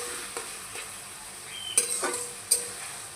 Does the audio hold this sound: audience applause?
no